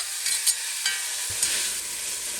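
Black-eyed peas being stirred and fried in a pot: a steady hiss of sizzling, broken by a few light scraping strokes at a moderate, close level.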